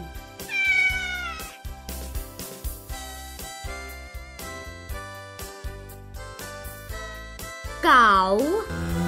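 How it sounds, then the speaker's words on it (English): A kitten meows twice, once near the start and again near the end. The two rising-and-falling cries sit over a light, rhythmic music track. "Kitten."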